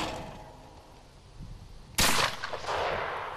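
A shotgun fires a single loud blast at clay targets in Chelyabinsk, its sharp crack then a decaying rumble after a quiet stretch of outdoor ambience.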